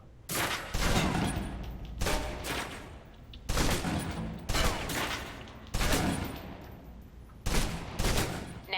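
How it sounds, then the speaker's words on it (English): A submachine gun in Alpha Protocol empties its magazine in several loud, close bursts, each lasting under a second with short gaps between them, and no talking over the shots. "Now, let's move on to the submachine gun."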